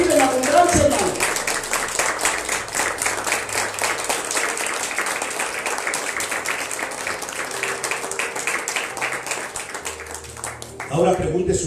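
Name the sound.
congregation applauding the Lord in church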